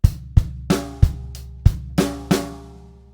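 One bar of drum kit from the refrain of a song, bar 70, with an extra bass drum on the and of 1 and snare on the and of 4: crisp, close kick and snare strokes over ringing cymbals, played alone.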